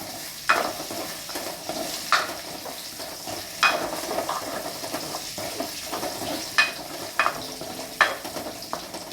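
Chopped onion, green chillies and curry leaves sizzle steadily in oil in a home kitchen pan for a green peas curry, broken by regular spatula scrapes and clinks against the metal.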